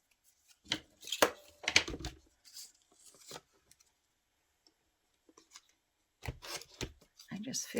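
Scissors snip through glossy magazine pages for a collage in short crisp bursts of clicks and paper crunches, separated by quiet pauses, with a soft voice nearby.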